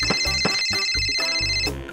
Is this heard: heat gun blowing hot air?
no